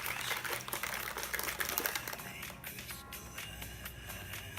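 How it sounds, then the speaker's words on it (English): A cocktail shaker holding orange juice is shaken hard, giving a steady, busy rattling and sloshing that runs for several seconds, loud at first and then easing slightly. "Give that a good shake."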